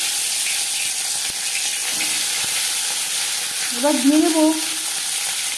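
Hot mustard oil hisses with a loud, steady sizzle as marinated fish is cooked. Someone speaks briefly near the end over the frying.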